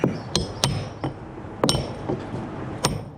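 An old SDS fitting, used as a chisel on a fiberglass sailboat, is struck by a hammer. Sharp metallic blows ring out at an irregular pace, with about half a dozen close, clinking strikes.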